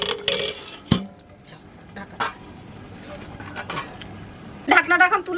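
A pot lid clatters down onto a cooking pot holding cauliflower simmering in boiling water for a fish curry, with a few sharp metallic clinks and knocks among quieter kitchen sounds and a brief voice.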